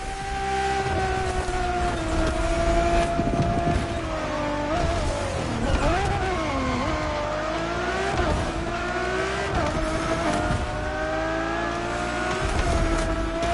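A Ferrari Enzo supercar engine revs loud and close, its pitch rising and falling in several swells, with a sharp dip and climb near the middle over a steady throaty roar.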